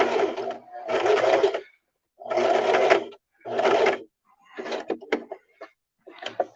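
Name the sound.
sewing machine sewing skirt side seam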